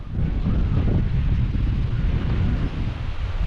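Steady wind buffets the microphone, a loud low rumble that roars without pause throughout, with no voices.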